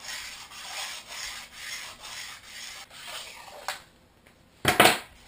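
Rhythmic scraping strokes along the steel edge of a freeride ski to rub off rust, repeated about six times close up, then a pause and a sharper, louder rasp near the end.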